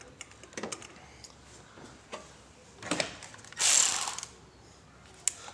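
Spark plugs being snugged down on a 2010-2014 Toyota Prius with a ratchet wrench: scattered close ratchet clicks building to a longer, louder burst of rapid clicking, then a single sharp tap.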